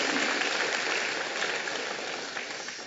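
A church congregation claps together after prayer and song, a soft, dense wash of applause that holds steady and then slowly fades.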